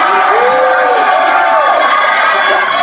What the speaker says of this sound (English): And the crowd just goes crazy.